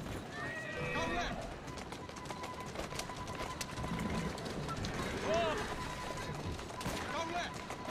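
Hooves clip-clop and a horse whinnies in Assassin's Creed Syndicate, set in Victorian London, with a continuous busy game background and someone talking over it; neighs rise briefly around the start and middle.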